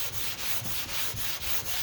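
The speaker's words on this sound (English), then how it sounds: "We'll sand this bottom and get it to a point where it's pretty much right." Hand sanding of 2K primer along a car body line, steady back-and-forth rasping strokes at a quick even rhythm, close and fairly quiet, with no talking.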